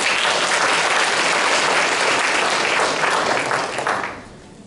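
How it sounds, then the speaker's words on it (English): A crowd at a festival press conference claps steadily in dense, sustained applause that carries on for several seconds, then trails off and fades out near the end. "Please stand up and give Jackie a round of applause."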